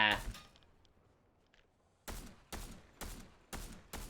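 Video game gunfire: after a brief burst and a quiet stretch, five sharp, evenly spaced shots crack loudly at close range, about half a second apart.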